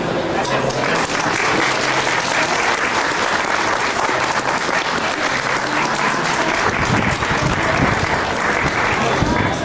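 An audience gives sustained, loud applause at a book presentation of Necroderecho at a book fair, dense clapping filling the whole stretch.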